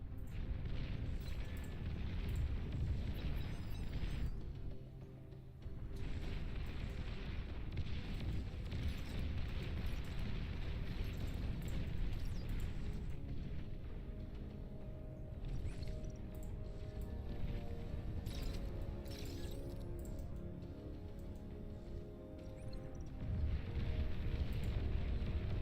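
Rumbling explosions from bombers striking in the real-time strategy game Beyond All Reason, a steady low roar of overlapping blasts with scattered sharp cracks, fairly faint and continuous.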